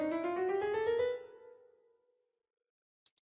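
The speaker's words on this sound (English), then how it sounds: "This slide shows the 12 tones, which sound like this, and I'm going to play this several times" A single sustained tone glides smoothly upward, rich in harmonics, then fades away over about a second, leaving near silence with a faint tick near the end.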